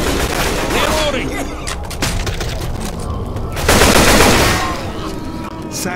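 Rapid, loud bursts of rifle gunfire from the video game Left 4 Dead 2, Dead Air campaign, firing in dense volleys with a brief lull before a heavier stretch of shots.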